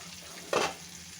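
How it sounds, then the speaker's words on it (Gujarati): A hot tempering of cumin and chili poured into chickpea curry, one brief, sharp sizzling burst rising over a faint background hiss and quickly fading. "હવે આપણે આ વઘારને અંદર નાખી દઈશું."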